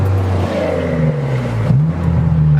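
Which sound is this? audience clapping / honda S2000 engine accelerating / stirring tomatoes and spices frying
honda S2000 engine accelerating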